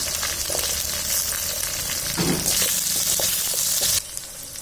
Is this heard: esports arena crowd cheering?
no